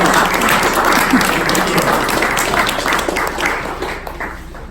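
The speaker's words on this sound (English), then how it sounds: "Super round of applause." Warm round of audience applause at a startup business pitch night, steady dense clapping from a crowd that gradually thins and fades toward the end.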